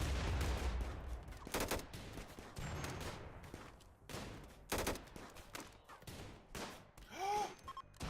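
Gunfire from a RimWorld colony battle against raiders carrying frag grenades: a string of sharp reports and short bursts spread unevenly through the clip, fairly loud and close, with no talk over them.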